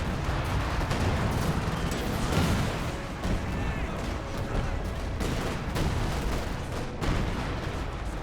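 Gunfire and artillery fill a Company of Heroes 2 battle, a dense continuous barrage of shots and thuds, loud throughout with no pause.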